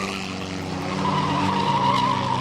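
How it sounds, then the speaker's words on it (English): An MGB race car spins through a 360 at Fleet Raceway, its tires squealing in a sustained skid over the engine noise, loud and close. "the MGB does a 360"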